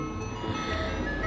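A faint tinkling ice cream truck jingle plays at a distance, steady over a low background rumble.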